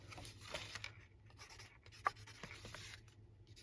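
A pen marks small crosses on paper while pages are prepared for a beginner's sea-themed scrapbook album, making quiet, close scratchy strokes in short bursts with one sharper tap partway through.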